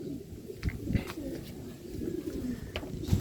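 Racing pigeons cooing in a loft, soft repeated low coos close by with a few faint rustles and wing sounds.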